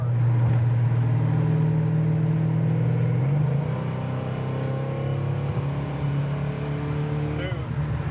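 A 1970 Chevrolet Chevelle SS rumbles down the road with a deep, steady V8 drone that shifts pitch slightly midway as it accelerates, heard from inside the car at moderate level with no clear talk.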